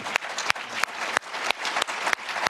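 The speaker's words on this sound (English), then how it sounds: "I'm so grateful for your support and applause, but you're taking my time" An audience bursts into sustained applause during a speech at an anti-war event, a dense, even wash of clapping with occasional sharper claps rising above it.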